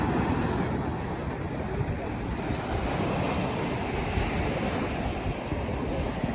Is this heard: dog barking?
no